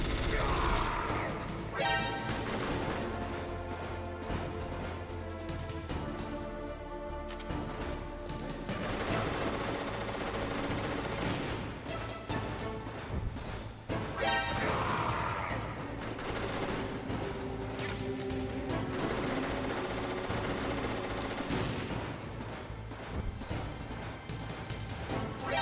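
Gunshots in the Metal Gear Solid video game, fired at an enemy and mixed in with steady game music and effects, with bursts of impacts at the start, middle and end.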